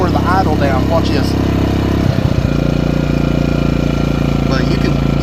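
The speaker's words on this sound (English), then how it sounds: "Now I'm going to turn it on so it'll lower the idle down." An engine idles steadily and loudly with a constant low rumble; partway through, the low idle setting is switched on and the tone shifts slightly lower while someone talks over it.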